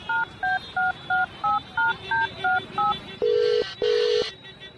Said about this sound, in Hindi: उस नंबर को अपने फोन से कॉल किया